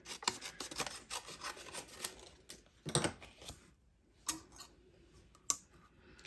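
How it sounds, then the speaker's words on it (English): Faint rasping, scraping and ticking of a paper trimmer cutting cardstock for a Stampin' Up handmade card, with uneven strokes and light clicks heard close up in a quiet room. "I'm going to trim it down."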